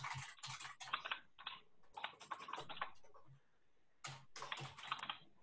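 Someone types a new name on a computer keyboard during a Zoom session, close rapid bursts of key clicks in three runs separated by short pauses.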